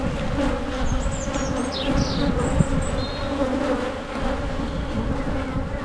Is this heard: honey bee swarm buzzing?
yes